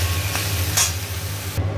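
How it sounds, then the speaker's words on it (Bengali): Spices and ginger paste sizzle as they are stirred and fried in a pan, a steady close hiss with a couple of soft scrapes of the spoon. "আদা বাটা দিয়ে দিয়েছি, ভালো করে এবার আদা বাটা দিয়ে কষাই"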